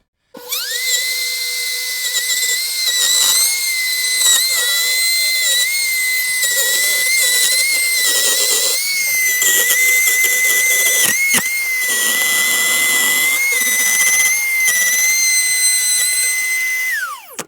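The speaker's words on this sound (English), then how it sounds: "I'm doing some final sanding on this Fender Mustang to get ready to finish it" A loud, steady high-pitched whine of a power sander running almost nonstop on the wooden body of a custom Fender Mustang guitar, with brief dips and changes in pitch as it works the surface.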